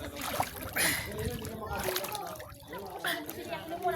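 Water splashes and sloshes as someone rinses off at a team-building outing, with irregular bursts of splatter under people talking nearby.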